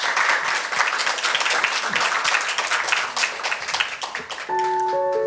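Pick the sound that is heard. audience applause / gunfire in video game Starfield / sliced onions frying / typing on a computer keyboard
audience applause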